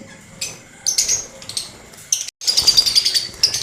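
Lovebird chicks give thin, high chirps in short bursts, close and fairly loud, with scratchy rustling between the calls.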